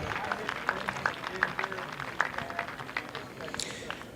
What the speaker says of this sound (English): Let's have another round of applause for number 7, Ethan Fannin.